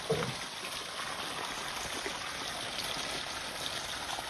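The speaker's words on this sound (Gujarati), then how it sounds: "અહીંયા આ પાણી અત્યારે ચાલુ છે" Irrigation water flows through a channel in a groundnut farm field, a soft, continuous trickle and gurgle that stays faint and steady throughout.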